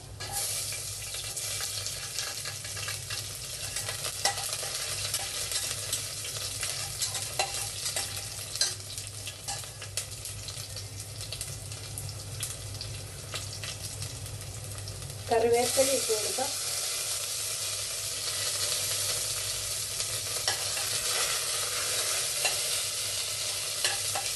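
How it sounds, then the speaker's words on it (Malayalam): Garlic and curry leaves sizzling and being stirred in hot oil for mutton kurma, a continuous loud fry with scraping stirs, intensifying sharply about two-thirds of the way through as more goes into the pan. "കറിവേപ്പില ഇട്ട് ഒന്ന് ഇളക്കി കൊടുക്കാം."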